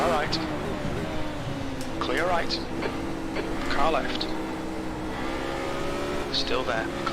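Race cars at Spa in a Radical championship racing video game, with a steady engine drone close by as a rival pulls alongside, while a voice talks over the engine noise.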